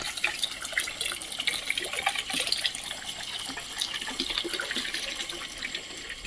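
Water pours and splashes steadily at a village water source, a continuous close rushing gush with no pauses and no voices.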